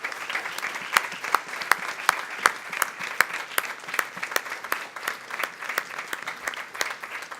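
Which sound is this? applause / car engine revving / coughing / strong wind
applause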